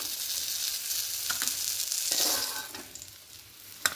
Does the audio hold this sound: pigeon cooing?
no